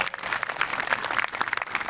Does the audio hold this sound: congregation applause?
yes